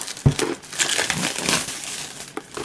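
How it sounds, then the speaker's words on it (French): Crinkling and rustling as the contents of a Five Tribes board game expansion box are unpacked, with close plastic and paper crumpling in short irregular bursts. "on va déballer tout ça."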